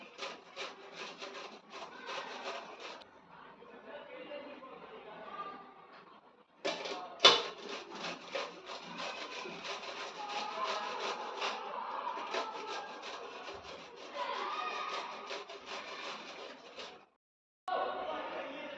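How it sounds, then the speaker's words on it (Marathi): A cucumber being grated by hand, close and fairly quiet, with quick repeated rasping strokes in bursts, a short pause partway through and a brief gap near the end. "तर असं करून मी पूर्ण काकडी अगोदर किसून घेते"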